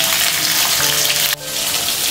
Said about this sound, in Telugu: ఇప్పుడు ఆయిల్ హీట్ అయిన తర్వాత మిర్చీలన్నీ వేసుకొని ఫ్రై చేసుకుందాం